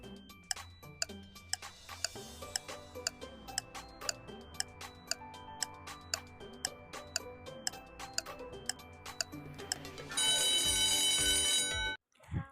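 A countdown timer ticks in a steady, even rhythm for about ten seconds, then breaks into a loud, continuous ringing alarm that cuts off abruptly, followed by a brief final burst.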